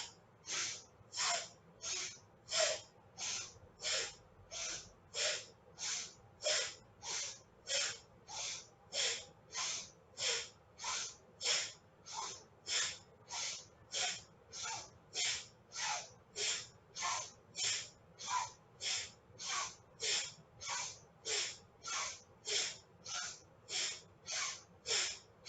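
Rapid, forceful breathing through the nose, a long unbroken series of sharp hissing puffs at a steady, quick rhythm, close and clear over a quiet background.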